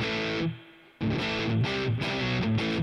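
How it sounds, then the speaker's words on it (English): Distorted electric guitar chords played through a Boss Katana MK-II amplifier with its spring reverb effect engaged: a sustained chord that decays into a reverberant tail, then a fresh rhythmic sequence of strummed chords, close and alone. "It's a decent spring reverb sound."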